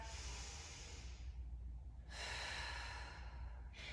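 Slow, relaxed breaths during a yoga stretch for the hamstrings and glutes, a long airy exhale followed by a fresh inhale, close and steady over a low background rumble, with no voice.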